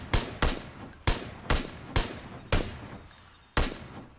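Gunfire in the console version of the video game PUBG on the Sanhok map: about eight sharp, loud shots in an irregular rhythm, each cracking close and trailing off into a short echo.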